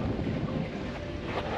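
Warm outdoor wind buffets the microphone in a steady, low rumbling rush with no voices.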